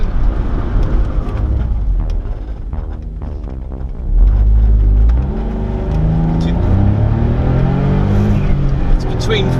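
A turbocharged Smart Roadster engine revving and accelerating hard, its note rising in pitch over several seconds and louder past the midpoint, with a steady close drone and a person talking over it.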